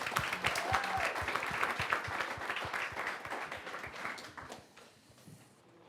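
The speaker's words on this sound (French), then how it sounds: "On peut les applaudir" A studio audience applauds a French business program's guests, dense clapping filling the room steadily before thinning and fading out near the end.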